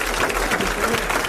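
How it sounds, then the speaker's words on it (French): A TV studio audience applauds, a short, dense wash of clapping from a crowd heard together with a presenter's voice. "Eh bien, vous applaudissez Madame Sévère de Metz."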